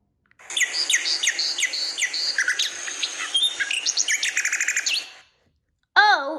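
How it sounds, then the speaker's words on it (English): Nightingale song from an animal sounds app, a rich, rapid run of varied chirps, trills and whistles lasting several seconds, then a brief pause and a short, wavering descending note. "N is for nightingale."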